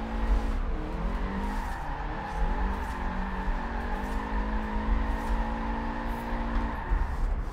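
Car drifting in the video game Forza Horizon 4 on street roads, a continuous loud engine with wavering revs and long sliding tire squeal throughout.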